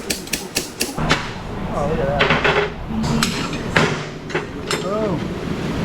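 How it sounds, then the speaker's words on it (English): A slide hammer set up on a Chevy Traverse during ABS repair work, giving a series of sharp metallic clacks and knocks close by over a steady shop hum, with someone talking briefly. "Now I gotta get my slide hammer set up."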